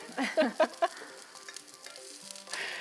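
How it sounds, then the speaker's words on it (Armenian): Food frying in a pan on a kitchen stove gives a soft, low sizzle, broken by a few sharp bursts early on and faint ringing clinks later. "Լավ բանը արդեն թավայում տապակվում է։"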